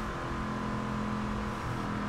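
A car engine in the Just Cause 2 video game, revving steadily with a continuous droning roar that stays loud and unbroken throughout, no voices over it.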